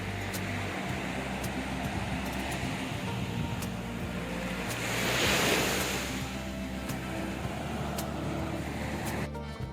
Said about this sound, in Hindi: वेव्स की आवाज़ जो है वो बहुत मज़े की लग रही थी